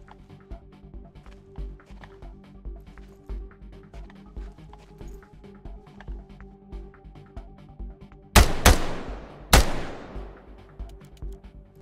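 Gunfire in the tactical shooter Ground Branch: three sharp, loud shots cracking out close together near the end, over a steady background of soft rhythmic thumps and movement.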